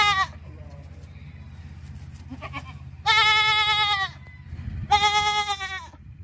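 Goat bleating in two loud, wavering, nasal calls about a second long each, close and clear over a low steady musical hum, with a fainter bleat just before.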